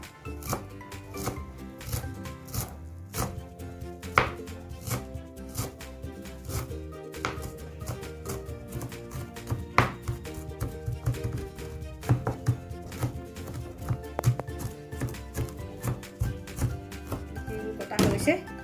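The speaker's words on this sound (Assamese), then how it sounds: "মই এতিয়া এইখিনি মিহিকৈ কাটি ল'ম।" A knife chops dhekia fern greens finely on a board with rapid, uneven taps that carry on throughout, close and clear, while a person talks over them.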